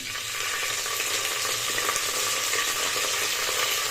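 Bay leaf and a handful of fresh mint leaves fry in oil inside a pressure cooker for a hotel-style vegetable pulao, making a loud, continuous, close-up sizzle with no talking.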